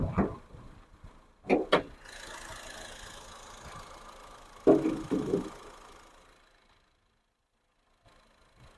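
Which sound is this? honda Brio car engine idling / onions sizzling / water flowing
honda Brio car engine idling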